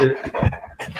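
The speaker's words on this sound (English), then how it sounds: "Oops, I'm sorry about my dog." A dog pants and whimpers close by in short, breathy bursts, brief and fairly loud.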